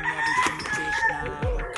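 A fighting cock, a farm rooster belonging to a brother-in-law, crows loudly and close by in one drawn-out call, ending in a low thump.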